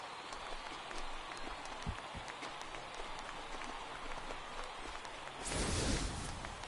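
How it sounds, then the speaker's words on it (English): Home crowd cheering in a baseball video game after a two-run homer in the bottom of the 8th, a steady distant roar of clapping and crowd noise that surges louder near the end. "the home crowd has really come to life here in the bottom of the 8th"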